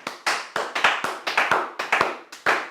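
A church congregation claps in praise, a brisk run of about a dozen sharp, evenly paced claps, close and clear with no talk over them.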